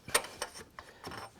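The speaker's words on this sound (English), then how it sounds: "Which I'll just tighten up with a screwdriver." Screwdriver tightening a fitting on a Citroën engine while re-torquing the cylinder head bolts, heard as a few close, short ratcheting clicks in uneven bursts with no talk.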